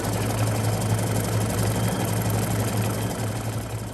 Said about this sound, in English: I'll just hit sew, and it's going to start sewing